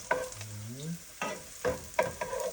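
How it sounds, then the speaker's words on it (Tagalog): Garlic stirred and fried in a home-kitchen pan: a steady low sizzle broken by several scraping stirs, close and moderately loud, with no talking. "Imekos-mekos natin yung bawang."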